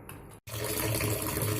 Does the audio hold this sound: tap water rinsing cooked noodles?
yes